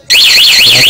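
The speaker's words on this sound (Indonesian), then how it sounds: "Ini di alarmnya seperti alarm yang sudah dibobol." A Honda Beat 2014 motorcycle remote alarm set off in panic mode, a loud, continuous warbling siren that rises and falls in steady sweeps, starting abruptly after a brief moment of quiet and sounding close by.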